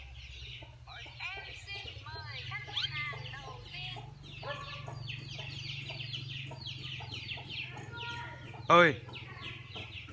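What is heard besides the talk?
chickens making a lot of noise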